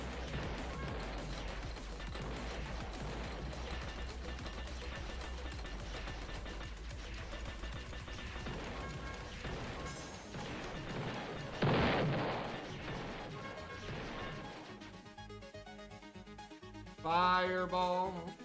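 Hunter missile explosions from the Void Resurgence video game boom and crash in repeated bursts over dense game audio, with one heavy impact standing out near the middle.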